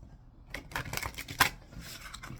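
A deck of tarot-style reading cards being shuffled by hand, giving a few quick riffling bursts and soft snaps up close, with quiet pauses between them and no talk.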